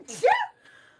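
One quick, faint sneeze, a short sharp burst of breath that trails into quiet, heard alone.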